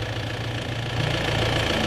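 A diesel car engine with black-smoke trouble runs close by at idle with a rough, rattling knock repeating under a steady hum; the sound grows slightly louder toward the end, and no one speaks.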